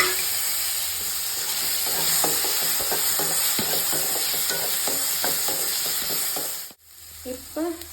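Food fries and sizzles steadily in a pan while being stirred, with rhythmic scraping strokes over a constant hiss, then a brief pause and a few more clinks; a Tamil kitchen cooking chutney with curry sundakkai (turkey berry).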